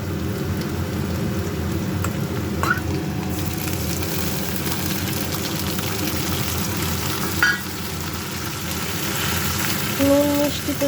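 A spice paste thinned with a little water simmers and sputters in a pan, making a dense, even bubbling hiss close at hand, with a few light clinks from utensils and no talking.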